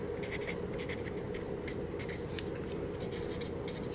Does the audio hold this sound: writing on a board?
yes